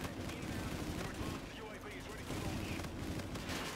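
Rapid, dense bursts of gunfire from the Pumpkin Pummeler epic auger gun in a video game, crackling continuously and loudly for several seconds.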